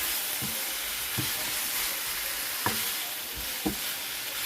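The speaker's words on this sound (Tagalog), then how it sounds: "maglalagay ako ng kalahati ng pork cubes" Pork cubes sizzle and fry in a pan in a home kitchen, a steady hiss with a few soft stirring knocks and clinks, nearby and without talk.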